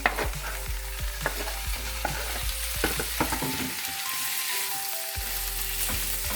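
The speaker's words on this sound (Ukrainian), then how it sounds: "Смажимо до рум'яної скоринки" Cubed chicken fillet sizzles and crackles steadily in a hot pan, with occasional sharp clicks and stirring scrapes, close up and fairly loud.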